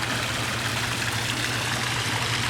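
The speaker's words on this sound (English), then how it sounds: "turn off the waterfall" Garden koi pond waterfall running, a steady, loud rush of falling water with a low pump hum underneath, continuous and unbroken.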